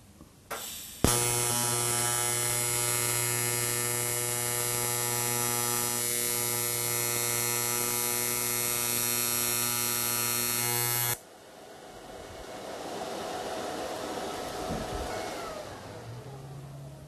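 An arc welder gives a loud, steady electrical buzz for about ten seconds, then a rougher, crackling hiss takes over.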